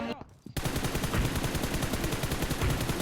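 Rapid automatic gunfire in the mobile battle royale game BGMI, a dense unbroken burst of loud shots that starts abruptly after a brief quiet moment and keeps going.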